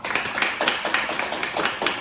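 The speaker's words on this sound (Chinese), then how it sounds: "我们再给主持人一个掌声" Audience clapping in rhythmic, evenly spaced bursts, close and moderately loud, at a public speaking event.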